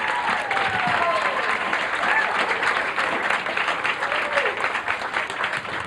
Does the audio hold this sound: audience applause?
yes